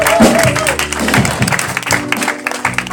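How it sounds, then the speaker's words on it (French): Church congregation applauding during worship, dense loud clapping mixed with cheering voices and a singing voice on top, spread throughout. "Acclame-le de tout ton cœur."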